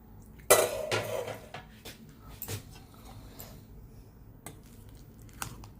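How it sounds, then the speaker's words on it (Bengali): The metal lid comes off a pressure cooker of mango khichuri after its whistle has died down: a sharp clank, then a few lighter metallic knocks and rattles at close range. "ঢাকনাটা খুলে নেব।"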